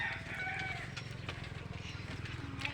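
A rooster crows among neighbours' chickens in a rural province setting, with clucking fowl close by and people talking over the birds throughout.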